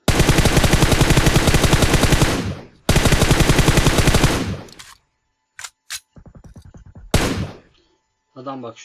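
Gunfire in the mobile shooter PUBG Mobile, two long loud automatic bursts followed by scattered single shots and short volleys, with a player's voice talking briefly over the action.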